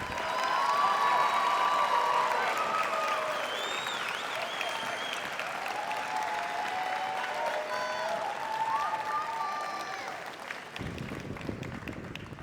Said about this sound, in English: Let's give a round of applause for our graduates.